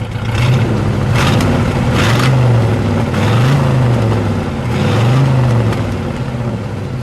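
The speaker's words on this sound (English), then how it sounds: "Go ahead, give it a rev." A 1967 Pontiac Firebird convertible's 326 HO engine, four-speed, revs three times from a steady idle, each throttle blip swelling and falling back, loud and close with no talking.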